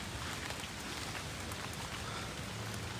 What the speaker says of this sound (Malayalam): നമ്മുടെ പഴയ മഴ